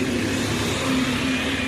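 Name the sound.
London double-decker bus passing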